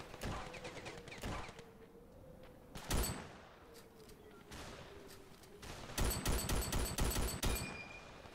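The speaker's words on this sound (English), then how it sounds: "Oh crap, he has a machine gun now." Gunfire in the video game Ravenfield crackles in scattered single shots, then a dense rapid machine-gun burst near the end, fairly quiet overall with no talk.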